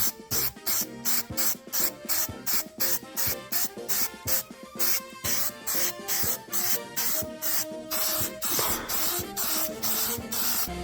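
Repeated short bursts of an aerosol spray can laying down a coat of aircraft gray paint on a Nintendo 64, loud, close hisses in a quick, regular rhythm with brief gaps between.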